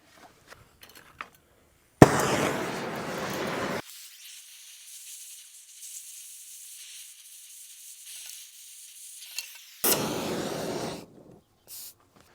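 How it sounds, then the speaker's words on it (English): Cutting torch slicing off the head of a bolt on a cabover parts truck during disassembly: two loud, roaring hissing bursts of a couple of seconds each, with a faint steady hiss between them, no talk. "So have to get the torch out. We'll cut off the head of that bolt"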